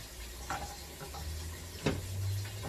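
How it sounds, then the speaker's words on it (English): A whisk stirs a mixture in a pan with soft, quiet scraping and a couple of brief clinks over a faint sizzling background. "Whisk it in."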